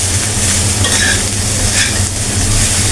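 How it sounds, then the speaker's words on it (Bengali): Water lily stems fry loudly with turmeric and salt in an uncovered pan, a dense, close, even sizzle with faint scraping from stirring throughout and no speech. "ভাজি শাপলা কখনো ঢেকে দেবেন না, একটু আঁচটা বাড়িয়ে শুধু নাড়াচাড়া দিবেন"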